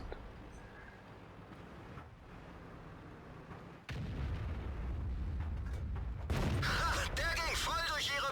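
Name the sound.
tank cannon shots in World of Tanks video game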